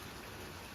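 Faint rain comes down outside with a quiet, continuous patter and hiss. Nothing else stands out against it.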